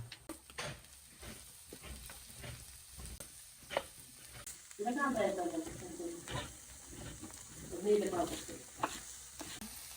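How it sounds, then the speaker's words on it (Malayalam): Chopped ponnanganni greens tossed into a hot pan for thoran, a soft frying hiss with repeated stirring scrapes, swelling louder midway as the greens hit the oil, with faint voices in the background. "അരിഞ്ഞു വെച്ച പൊന്നാങ്കണ്ണി ചീര നമുക്ക് ഇതിലേക്ക് ഇട്ട് കൊടുക്കാം"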